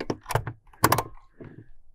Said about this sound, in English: there's a latch to hold the door open